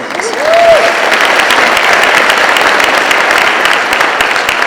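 An audience at a county State of the County address applauds, a loud, sustained, dense clatter of clapping that carries on evenly throughout.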